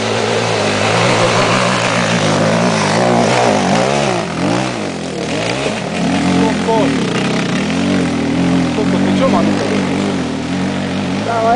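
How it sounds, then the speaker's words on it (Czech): A motorcycle engine runs close by, its loud steady drone rising and falling in pitch as it revs, with people talking over it. "Tak dobre, moja motorka ide."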